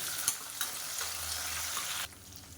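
Garlic, onions and green chillies sizzle and fry in hot oil in a pan, a steady bright hiss with a couple of soft stirring knocks, close and continuous before easing off near the end.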